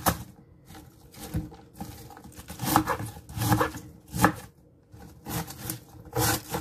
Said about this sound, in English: Cut the cabbage up.